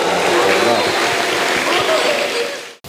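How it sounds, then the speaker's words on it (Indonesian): Audience applause at a Qur'an memorization graduation ceremony at an Islamic junior high school, loud and dense for nearly three seconds before cutting off abruptly, with faint voices mixed in. "tepuk tangan buat Ananda Zalfa"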